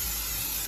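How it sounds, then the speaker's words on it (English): Cooking spray hisses in a steady, close burst onto a George Foreman indoor grill, a continuous aerosol rush lasting under a second and tapering off at the end, with no voices. "So I'm gonna spray with the cooking."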